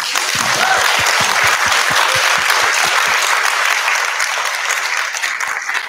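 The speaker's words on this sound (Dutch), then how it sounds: "als we extra hard klappen, hoort ze het vast" Audience applause at a queer literary zine presentation, loud and dense, sustained for the whole stretch with a few sharper individual claps near the start before easing slightly at the end.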